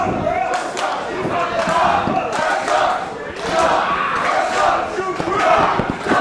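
A packed crowd at an independent 3XWrestling show roars and chants continuously for a wrestler mid-match, with loud swelling cheers and scattered shouts filling the hall.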